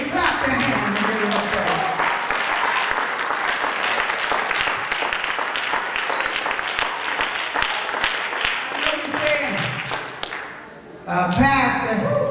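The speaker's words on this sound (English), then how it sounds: "Clap your hands." A church congregation at a Sunday service claps and cheers loudly for about ten seconds, then the applause cuts off and a voice speaks over the hall.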